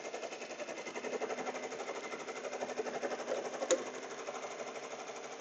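Embroidery sewing machine stitching a design onto a jacket, a fast steady rhythmic needle chatter with a slight pulsing, close and continuous, with one sharp click partway through.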